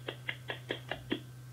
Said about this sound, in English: Clap into your mic.